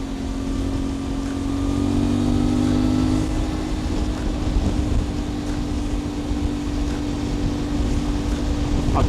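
A CFMOTO 450MT motorcycle engine drones steadily while being ridden, its pitch climbing briefly early on and then holding, with rushing wind noise throughout and no talk.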